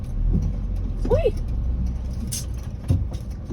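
Cars and buses pass on a rainy road, a continuous traffic rumble with a brief squeal and a knock, while people talk over it.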